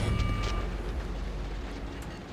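An antimatter bomb blows a ship to pieces in the Floating Sandbox video game, a loud, deep blast with crackling bursts early on, then a rumbling decay that slowly fades.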